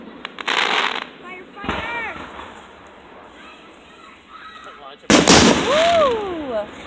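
Fireworks go off outdoors near a two-story house, with sharp bursts and crackles partly under people talking, and a loud close bang and whistle toward the end.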